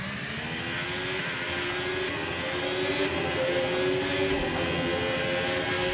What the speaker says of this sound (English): my car is suffering in first gear. Making all these horrible grumbling sounds.